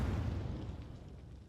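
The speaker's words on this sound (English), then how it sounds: "Subject passed away due to an overexposure to high-yield explosives." A loud, sustained bomb explosion from the video game malViolence, a deep rumbling boom that fills the low end and slowly tails off over about a second and a half, with no voices over it.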